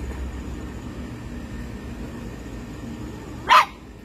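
A dog gives a single short, sharp bark, fairly close and loud, after several seconds of quiet outdoor background.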